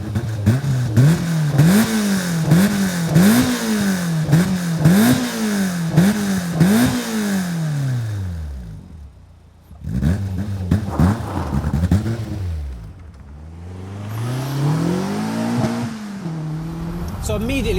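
A Caterham 360R sports car engine revs hard through several quick gear changes as it pulls away, then drops off, roars again, and accelerates once more.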